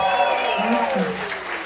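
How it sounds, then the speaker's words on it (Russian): A concert audience applauds in a continuous wash of clapping that stays under a speaking voice, fairly loud at first and easing slightly toward the end. "Огромные аплодисменты, бурные, замечательным музыкантам."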